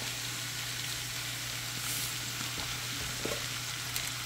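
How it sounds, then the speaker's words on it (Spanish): Mexican calabacitas (squash) and potato fry in a pan with a steady, close sizzle and faint crackles throughout, with no one talking. "miren se están friendo las calabazas"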